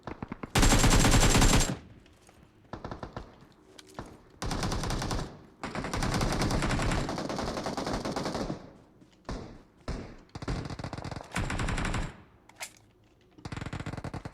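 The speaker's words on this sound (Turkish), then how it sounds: "Her yerden birer silah sesi çıkıyor." Rapid bursts of automatic gunfire and single shots in PUBG Mobile, loud and repeated, with short pauses between volleys.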